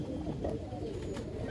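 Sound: pigeons cooing

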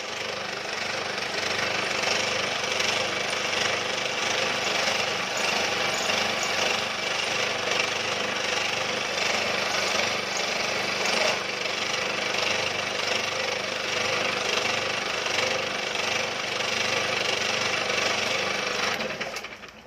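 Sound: milling machine finishing a welded cracked motorcycle clamp

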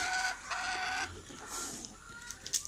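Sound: chickens clucking

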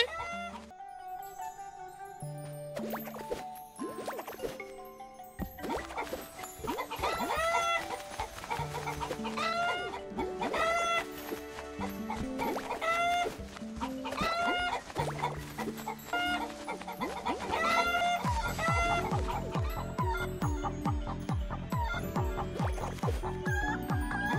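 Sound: three hens clucking

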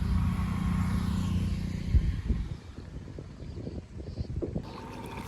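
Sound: small boat moving on water

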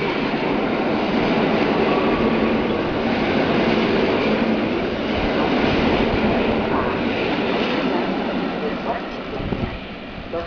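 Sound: train at Warszawa Wschodnia station

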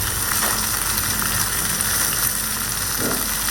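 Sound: steamed water spinach (kolmi greens) frying in a pan

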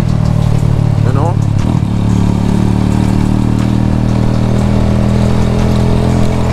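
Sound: motorcycle engine while riding

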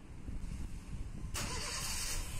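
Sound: car with 1.3 liter engine starting

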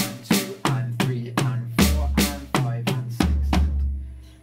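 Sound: drum fill

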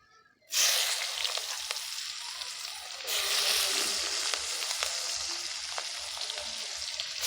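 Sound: onions frying in oil in a wok

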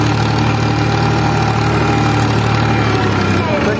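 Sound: tractor engine running

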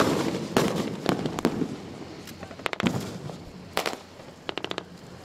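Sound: explosions and gunfire during military beach drill

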